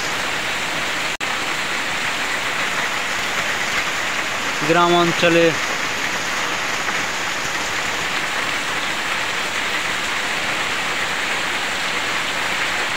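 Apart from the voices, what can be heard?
heavy rain falling in a village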